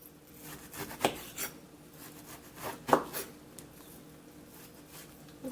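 A knife cuts around the side of a frozen orange peel, giving soft, dry rasping scrapes with a few sharper strokes near one and three seconds, close and fairly quiet.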